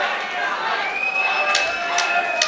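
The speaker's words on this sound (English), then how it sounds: "Crowd here going crazy for this one in Solihull." Crowd at a live fight night in Solihull roaring and cheering in a steady, dense wash of voices, with brief louder surges and whistles rising above the noise throughout.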